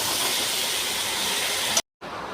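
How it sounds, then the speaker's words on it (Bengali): Minced meat sizzles steadily and loudly in a hot pan as it is stirred, a dense unbroken hiss that cuts out abruptly for a moment near the end before resuming. "কিমাটা আমি ভালো করে নেড়ে নেবো, এর সাথে ধীরে নেবো কিমাটা।"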